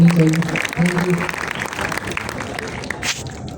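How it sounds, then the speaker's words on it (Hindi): An audience claps at an event, a short burst of applause under and between a speaker's talk, fairly close and moderately loud. "आपके बाद इनके लिए भाई अगेन बहुत ज़्यादा तालियां होनी चाहिए"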